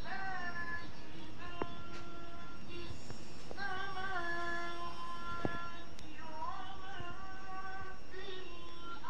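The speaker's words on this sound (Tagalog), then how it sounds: "Mga pusa, oh." Several cats meow repeatedly at a moderate distance, drawn-out rising and falling cries spaced across the stretch, with occasional clicks and faint background rumble.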